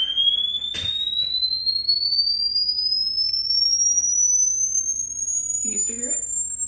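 A high-pitched sine tone from an online hearing test rises slowly and steadily in pitch, held clear and continuous over faint room noise, with a brief click and a short voice near the end.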